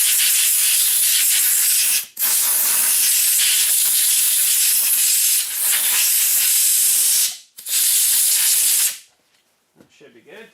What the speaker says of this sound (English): Now let's grab a little bit of CA, as in compressed air.